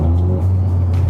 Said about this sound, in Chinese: 你看它的降档